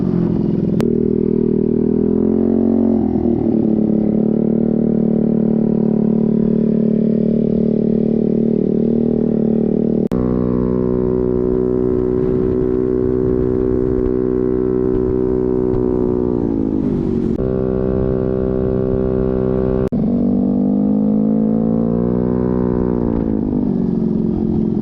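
A big bore Maddog Ruckus scooter built by Boca Scooters runs while being ridden, with a loud, close engine drone that rises and falls as the throttle changes, including several sharp shifts in pitch, and no voices.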